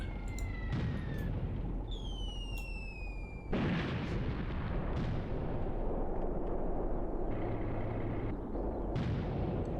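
Tank guns fire in the Graviteam Tactics war game, heavy booms over a dense continuous roar of battle, with whistling and rumbling shots overlapping across the whole stretch.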